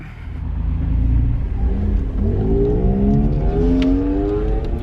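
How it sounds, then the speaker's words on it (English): A Honda NSX sports car rolls into a parking lot, a low engine rumble near and steady at first, then rising into a smooth, whirring rev as it pulls in. "Nice NSX pulling into the parking lot."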